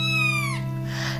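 A striped cat gives one long, strained meow that slides downward, close and loud over a steady low hum.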